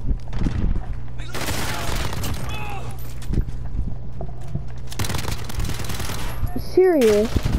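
Bursts of automatic gunfire in Call of Duty Modern Warfare Warzone, loud close volleys separated by quieter gaps, with a player talking over parts of it and a low hum underneath.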